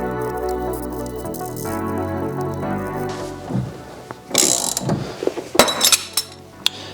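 Removing the steering rod from a BMW E34 front suspension during a major rebuild: metallic clinks, ratcheting and a few sharp knocks, irregular and close, growing busier toward the end.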